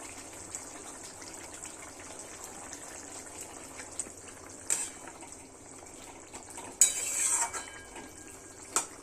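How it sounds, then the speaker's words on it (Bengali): Surmai fish pieces go into a Goan-style curry gravy in a pan, with a few soft clinks and splashy plops over a quiet background, spaced apart, one busier burst of wet spoon and pan noise. "মাছগুলো এবার দিয়ে দেবো গ্রেভিতে।"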